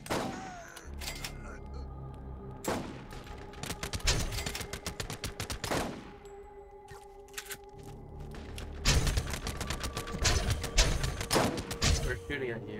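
Gunfire in the Xbox 360 shooter Borderlands, repeated bursts of rapid shots and heavy thumping blasts coming in waves, loud and close, with players talking between and over the shooting.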